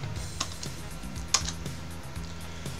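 Keystrokes on a computer keyboard while entering a Linux terminal command, a soft run of close clicks with a few sharper taps, quiet and steady with no talking.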